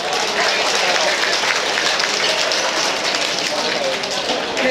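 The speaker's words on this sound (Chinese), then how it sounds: "多啲掌声，唔该。" An audience at a kung fu and lion dance banquet claps dense and loud, holding a steady wash of applause for the winner of four gold medals at a traditional martial arts contest.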